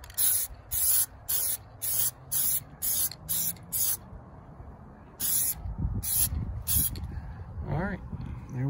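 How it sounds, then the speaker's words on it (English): Rhythmic bursts of aerosol spray paint on a car emblem, about a dozen short hissing blasts close by, followed by a pause, three more sprays, and someone talking. "So we'll go ahead and spray this side too."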